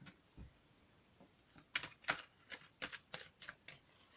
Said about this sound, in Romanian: Acum, mai amestec încă o dată cărții, că doar le-am pus la loc.